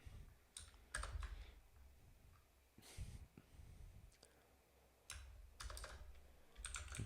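Quiet typing on a computer keyboard, with irregular clusters of soft key clicks separated by short pauses, close up and faint with no voice over it.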